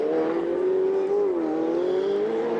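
A Ferrari Challenge race car that has spun onto the grass at Valencia drones at steady high revs, with its engine note dipping briefly then climbing again, loud and close.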